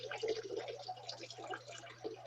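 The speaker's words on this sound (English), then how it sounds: "We can hear you pouring water." Water poured near a phone on a call, a soft continuous splashing trickle heard faintly over a low steady hum.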